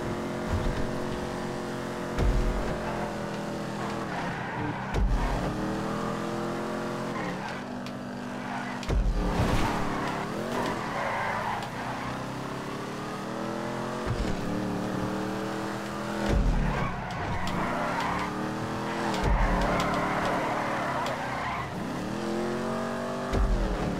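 A damaged car in a GTA Online land race revs hard and steadily, its engine rising in pitch through the gears with repeated dips at each shift and short bumps, loud and continuous without talk.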